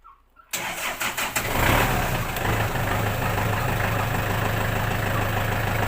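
A Kubota L4708 tractor engine cranks briefly after a short quiet moment, then catches and settles into a steady, loud diesel idle that runs on evenly without talk.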